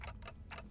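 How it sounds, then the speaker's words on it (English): A clock ticks faintly and steadily in the video game Limbus Company, a few evenly spaced ticks over a low background hum. "all I can hear is the clock ticking"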